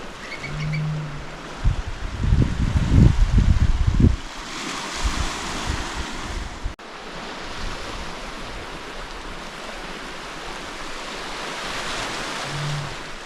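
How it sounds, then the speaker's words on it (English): Ocean surf rolls against a rocky shore in the Cape Breton Highlands while wind blowing over the hill crests buffets the microphone, with a louder rumbling gust in the middle and steady wash throughout. "We soaked up the sounds of the ocean washing against the rocky coast and the wind blowing over the hill crests."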